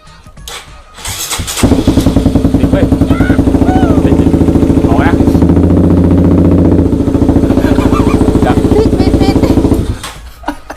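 A car engine left unused for two years turns over and catches, then settles into a loud, steady idle for several seconds before cutting off; a faint voice is briefly heard.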